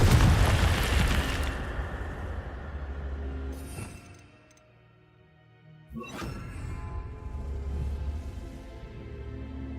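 Confringo fire spell from Hogwarts Legacy on PC, a loud burst and rumbling blast that fades into quiet, then a second sharp impact and crackling roar, heard without talk.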